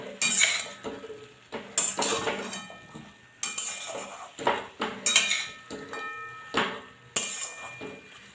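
Spinach curry with salt, turmeric and chili powder being stirred in a pan, a series of loud metal spatula knocks and scrapes in irregular bursts, close up with no talking.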